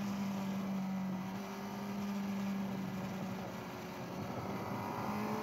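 Suzuki GSX-R K6 motorcycle engine on the Donington track, a steady loud drone with a sustained tone shifting slightly in pitch as it downshifts, no voices.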